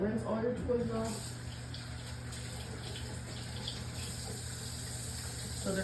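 Tap water runs steadily into a sink as aquarium toys are rinsed, with a brief voice at the very start and then the continuous splashing stream alone.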